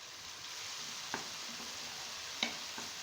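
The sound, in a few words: spiced yogurt added and stirred into onion-tomato masala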